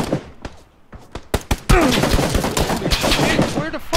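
Several sharp gunshots burst out in a tense PUBG: Battlegrounds firefight, scattered single reports followed by a dense run of rapid shots, loud and close, with a voice talking briefly among them.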